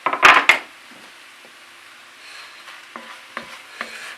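A few vegan sausages hit a hot pan with a sharp, loud sizzle that quickly fades. It is followed by quieter crackling and scattered utensil taps against the pan, with no talking.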